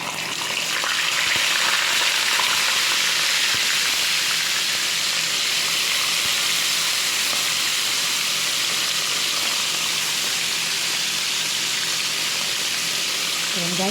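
Fish frying in hot oil in a pan gives a steady, close, loud sizzle with constant bright crackle and hiss that holds unchanged throughout, with no voices.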